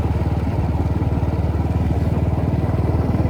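Royal Enfield Classic 350 single-cylinder motorcycle idling or riding close by, a loud, rough, rapid thumping pulse with a mechanical push-rod clatter, steady and continuous with no speech.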